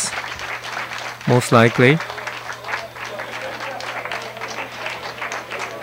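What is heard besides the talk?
applause in the Hayabusa2 mission control room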